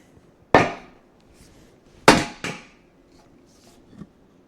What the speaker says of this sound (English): we'll try and push it down with the sledge